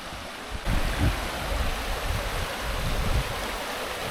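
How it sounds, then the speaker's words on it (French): A mountain river in the Portes du Soleil area near Morgins rushes steadily past, a broad constant wash of flowing water close by with no pauses. "Vraiment toujours des coins de rivière magnifiques"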